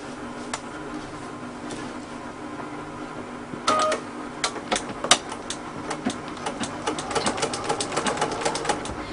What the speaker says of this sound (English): I am also going to go ahead and stitch down the middle of this.